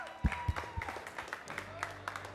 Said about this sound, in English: A big round of applause for the Kolkata Hawks!